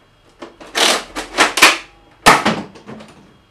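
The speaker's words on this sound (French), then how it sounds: "Donc on va tirer une fois." A Nerf Mega Thunderhawk blaster is primed and fires a dart, heard as a close sequence of sharp mechanical clacks and a loud pop-like burst, then a few softer clicks, with no talking.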